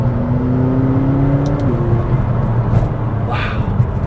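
A 2017 McLaren 570S sports car with about 15,000 miles, engine heard from inside while driving, a steady loud hum that drops in pitch at a gear change, followed by rumbling road noise.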